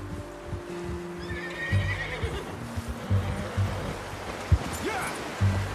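A horse in Red Dead Redemption 2 whinnies over steady hoof clip-clops and a low outdoor rumble, with a voice talking briefly in the background.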